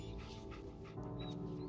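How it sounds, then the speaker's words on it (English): Dog panting in the video game Fallout, quick rhythmic breaths over a steady game-ambience hum, close and moderately loud with no talking. "let's go ahead and greet the dog"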